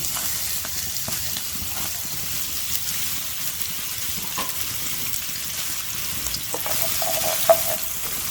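Finely chopped onion fries in hot oil in a pan for a Pakistani kebab karahi, a steady close sizzle with soft stirring scrapes and a brief clink near the end.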